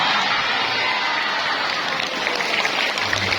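A seminar audience breaks into loud, sustained applause, dense clapping from a large crowd filling the room with scattered cheers.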